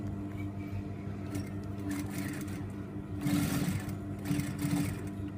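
A sewing machine stitches along a fabric edge, a steady close mechanical whir that swells into two louder bursts of running, with no talking.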